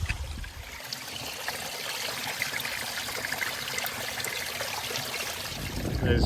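Spring water flows out from under rocks in a quarry, a strong, continuous trickling gurgle that stays close and steady throughout, with no voices over it.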